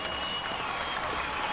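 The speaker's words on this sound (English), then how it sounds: "let's have another big round of applause for the Pomona High School Marching Band" Applause from the stands for a high school marching band at a state marching band finals, a steady dense clatter of many hands filling the whole moment.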